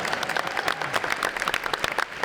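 Audience applause fills a hall, a dense steady patter of many hands clapping at close-to-moderate distance with no voices on top.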